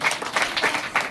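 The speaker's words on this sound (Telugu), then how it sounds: "క్లాప్స్ కొట్టిలా నాన్న." A short burst of scattered hand clapping from an audience at the closing ceremony of a free badminton summer coaching camp, fairly quiet and a little distant, with a few louder claps standing out.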